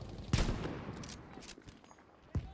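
Two sharp gunshots ring out in a Battlefield 5 match, one early and one near the end, each a short, punchy crack over a low background of game ambience.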